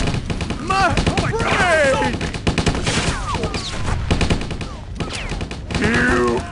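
Rapid bursts of gunfire in the video game Stubbs the Zombie, dense repeated shots in clusters with short pauses, mixed with shouting voices throughout.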